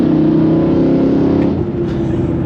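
A 2008 BMW E9X M3 engine revs hard under full throttle while driving, a loud sustained droning note heard close from inside the car, dipping briefly and then pulling again.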